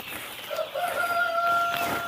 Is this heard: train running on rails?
no